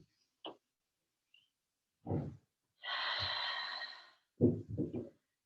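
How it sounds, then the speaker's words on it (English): Slow, deep breaths during a yoga forward fold: a soft nasal intake, then one long airy exhale of about a second and a half. Quiet, close breath sounds come in short bursts with silence in between. "Take a nice couple deep breaths here."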